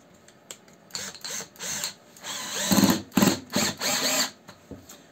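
A TopShak TS-ED1 cordless hammer drill driving 3.5×35 mm screws on its first setting whirs in several short bursts of rising and falling motor whine, close and loud, with brief pauses between runs.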